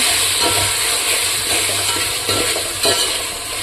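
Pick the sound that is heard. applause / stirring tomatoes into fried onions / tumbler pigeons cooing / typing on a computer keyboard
stirring tomatoes into fried onions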